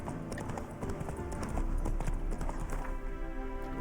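The horse Roach gallops in The Witcher video game, its hooves drumming a quick, steady clip-clop rhythm at moderate loudness, with no voices over it.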